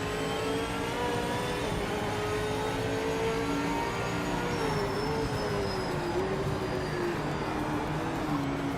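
A Porsche race car engine in Project Motor Racing drones steadily and loudly, its pitch sliding up and down with gear changes over a constant roar of other cars.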